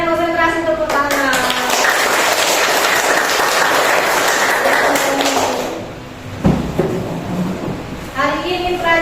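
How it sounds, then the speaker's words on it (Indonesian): Schoolchildren in a combined grade 4 and 5 classroom break into a burst of dense, rapid hand clapping lasting several seconds, bracketed by a teacher's voice speaking before and after. "Kalian konsentrasi, tepuk tangan."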